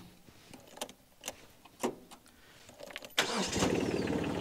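A farm sprayer's blower fan engine starts up with a few sharp clicks and bursts, then settles into a loud, steady, broadband roar that runs to the end.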